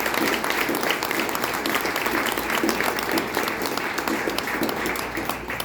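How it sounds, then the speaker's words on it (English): A graduation crowd gives a dense, steady round of applause for the graduates, sustained and loud for several seconds before tapering slightly at the end. "Please give them a round of applause."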